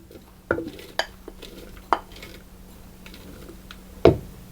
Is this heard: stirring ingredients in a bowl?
yes